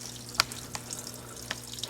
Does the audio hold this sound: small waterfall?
yes